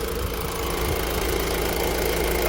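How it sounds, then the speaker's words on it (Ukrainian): A Honda CR-V engine idles steadily up close, an even, unbroken low rumble with a faint mechanical knock and no talking. "двигун працює рівненько"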